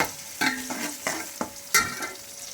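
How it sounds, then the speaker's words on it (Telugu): Chopped onions frying in a pan for village-style chicken biryani, a quiet sizzle broken by several spatula strokes and scrapes at a loose, irregular rhythm, close by with no voices. "కట్ చేసి పెట్టుకున్న ఉల్లిపాయలు అన్ని దీంట్లో వేసి ఇది కొంచెం ఫ్రై అయ్యేంత వరకు వేపాలి"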